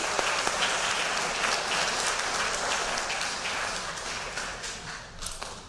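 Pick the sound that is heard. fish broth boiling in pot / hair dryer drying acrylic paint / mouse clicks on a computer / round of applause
round of applause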